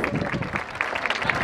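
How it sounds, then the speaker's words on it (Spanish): A brief burst of audience applause at a municipal arts and crafts school ceremony, a dense patter of clapping heard under a speaking voice. "Fuerte el aplauso para ellos"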